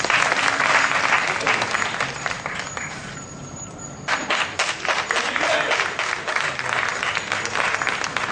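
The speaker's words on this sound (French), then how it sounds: "Applaudissez pour vous-même." An audience at a slam poetry concert bursts into loud, sustained applause that dips briefly midway and then swells again, the clapping dense and close throughout.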